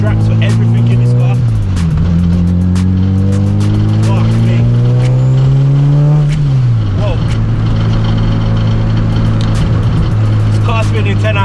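A 1000bhp Honda Civic engine revs hard and loud during wheel spin, its pitch climbing steadily, then dropping sharply twice before building again, with tyre and road noise beneath the strained drone.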